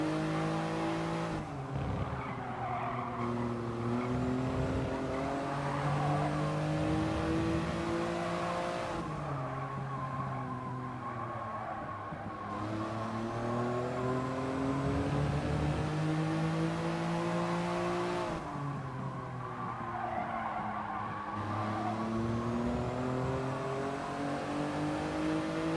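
A Toyota GR Yaris races at Fuji in the GT Sport video game, its engine droning loud and continuous as it rises and falls through gear changes, with brief tire squeal.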